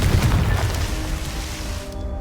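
Confringo spell explosion in the Hogwarts Legacy video game, a loud booming blast that rumbles and fades over about two seconds.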